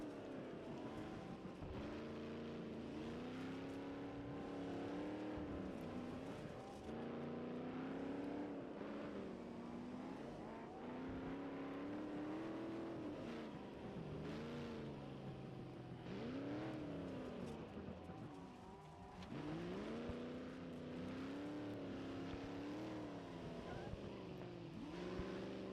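Race cars in a video game rallycross race at an industrial track roar continuously, engines whining up and down in pitch as they accelerate and shift, a steady layered motor drone at moderate level with no talk.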